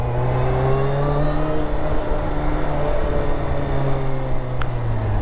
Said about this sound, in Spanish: El sonido del motor, sí, totalmente diferente a un tetracilíndrico normal